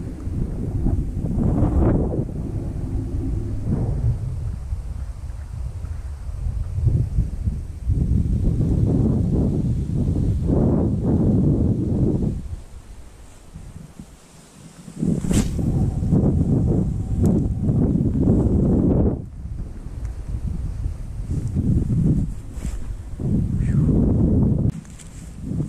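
Blustery wind roars and gusts across the microphone outdoors during winter fishing, a steady low rumble that surges, briefly drops away and returns, loud and close with no clear talk.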